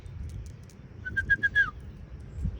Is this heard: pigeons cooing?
yes